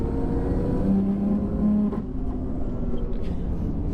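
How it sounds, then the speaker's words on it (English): A BMW F80 M3 converted to a single turbo pulls hard under boost, a loud droning engine note with a rising whistle from the wastegate, then easing off into a lower rumble. "It's quite loud when it starts to make boost. That wastegate is obnoxious."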